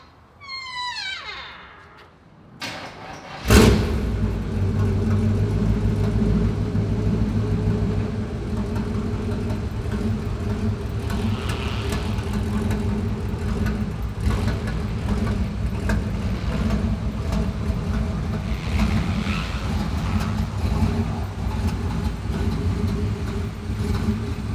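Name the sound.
1965 Chevrolet Impala driving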